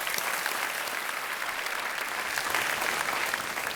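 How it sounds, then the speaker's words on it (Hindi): A television quiz-show studio audience bursts into steady, dense applause welcoming guests, the clapping continuous and full throughout with no voices over it. "इन सबका एक बार फिर बहुत बहुत स्वागत तालियों के साथ।"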